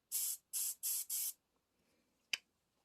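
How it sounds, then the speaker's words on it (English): Four short hissing bursts from an aerosol hair spray can in quick succession, then a pause and a single sharp click. "And a touch of spray."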